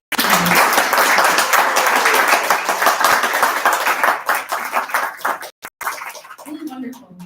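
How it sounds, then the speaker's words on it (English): An audience gives a round of applause for the poets at a Twin Cities poetry and pints evening, a close, dense burst of clapping that thins and breaks off near the end as a voice starts to speak. "Let's have another round of applause for all of our poets."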